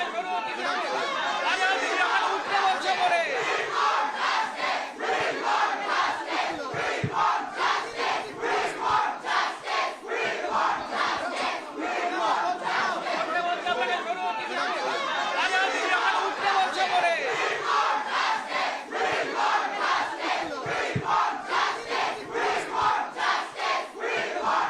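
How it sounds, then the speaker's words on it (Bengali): Students protesting at a Saraswati Puja celebration at Jogesh Chandra College chant a slogan in unison. The rhythmic crowd chanting is loud and continuous, with shouted syllables repeating steadily throughout. "সরস্বতী পুজোতে উঠল উই ওয়ান্ট জাস্টিস স্লোগান।"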